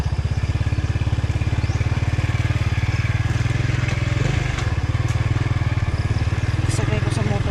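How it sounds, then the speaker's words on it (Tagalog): A motorcycle engine runs close and loud, a steady rhythmic chugging that holds an even pace throughout with a little clatter on top. "Sakay ko sa motor guys kung uwi pa."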